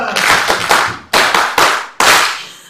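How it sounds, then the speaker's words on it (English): An audience at a political retreat in Uganda claps in a few loud, sharp bursts, each one a sudden crack of many hands that fades quickly, in a reverberant hall. "Yes, you can clap."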